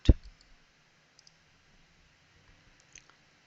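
Computer mouse buttons click on a PC while group policy settings are edited, one sharp close click at the start followed by a few faint, scattered taps in an otherwise quiet room.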